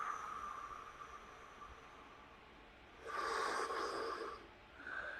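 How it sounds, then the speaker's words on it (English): Slow breath sounds during a daily morning breathing exercise: soft steady airflow, then a louder, rushing exhale lasting about a second and a half, and a brief gentler breath at the end, all close to the mic with no talk. "And we do that every day with this breathing exercise."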